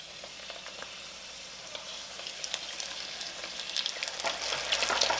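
Wontons deep-frying in 350-degree oil, a continuous close sizzle with crackling pops that grows busier and louder toward the end, no voices.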